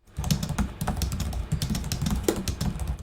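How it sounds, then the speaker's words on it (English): Rapid keystrokes clatter on an Acer Helios 300 gaming laptop keyboard, a continuous close-up tapping with a low hum underneath. "I liked typing with the keyboard and didn't have any problems using it."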